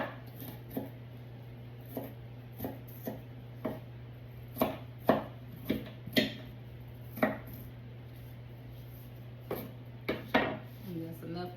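Knife chops red onion for a summer salad on a cutting board, a series of irregular sharp taps, some in quick clusters, close and moderately loud over a low steady hum.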